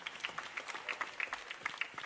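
A school audience applauding in welcome, a dense patter of many hands clapping at moderate distance, fairly soft and even throughout.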